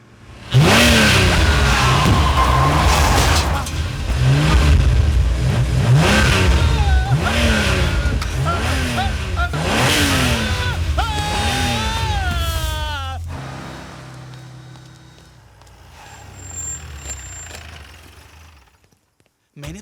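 A car engine revs hard in repeated rising surges, loud and close, as the car drives off, then the sound fades into quieter ambience with a faint high tone near the end.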